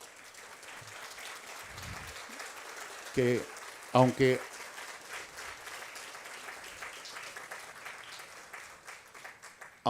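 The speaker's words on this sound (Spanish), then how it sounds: "Yo quiero pedir otro gran aplauso para mi amigo Mika," An audience at a human-rights forum in Guatemala applauds with a sustained, moderately loud patter of clapping, with brief bursts of speech breaking through midway and near the end.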